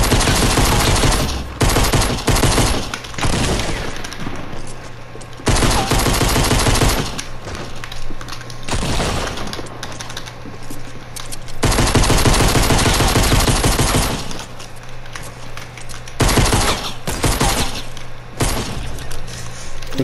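Gunfire in the video game Fortnite: loud bursts of rapid automatic shots and single cracks, broken by short pauses across the stretch, with some shattering and breaking sounds mixed in and no talking.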